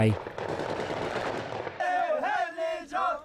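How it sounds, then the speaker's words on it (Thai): Rapid bursts of gunfire fired into the sky by Kurdish fighters in Kobani crackle over a noisy crowd, then shouting voices rise as the shooting gives way to loud cheering. "นักรบชาวเคิร์ดหลายคนยิงปืนขึ้นฟ้าเพื่อแสดงความดีใจ"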